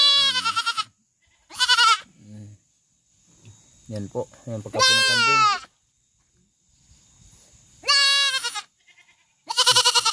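Goats bleat loudly and repeatedly on a farm during castration. Several drawn-out, wavering cries come close to the microphone, with someone talking between them.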